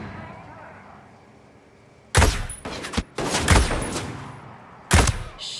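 Sniper gunfire in the Ghost Recon Breakpoint video game: after a quiet stretch, loud sharp shots and bursts of fire crack in at close range, with several separate heavy blasts.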